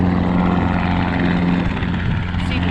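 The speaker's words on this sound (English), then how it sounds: "Got some helicopters flying around." A low, steady helicopter rotor drone hums throughout at an airshow in Titusville, Florida, fairly loud and constant, with faint background noise and no clear talking.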